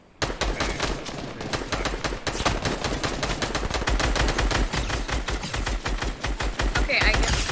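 Rapid, steady gunfire in Fortnite Battle Royale gameplay rattles on for several seconds as a dense string of sharp shots, loud and close, with a faint voice now and then.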